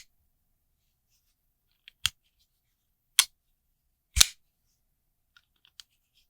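A folding knife snaps shut in several sharp, crisp clicks, close and loud against near silence, with a few fainter ticks of the blade and lock settling afterward.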